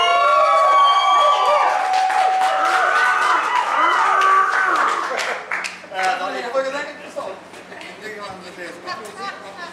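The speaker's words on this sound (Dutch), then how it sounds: "Applaus!" Audience at a carnival show by a band, clapping and cheering loudly under brass music and crowd chatter, the noise fading somewhat after a few seconds.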